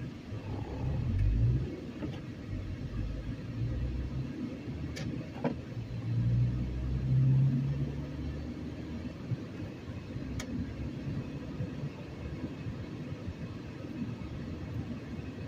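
A manual transmission car cruising in fourth gear through a town, steady low engine and road rumble heard from inside, with a few swells in loudness and faint clicks.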